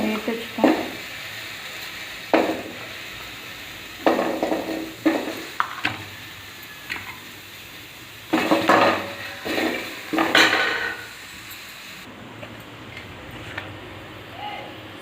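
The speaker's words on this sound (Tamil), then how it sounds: "இப்போ வெங்காயம் வந்து வதங்கிட்டுருக்கு." Shallots sauté in oil in a pan, with a soft sizzle under repeated stirring and spoon scrapes against the metal in short clustered bursts, close up and fairly loud, with pauses between strokes.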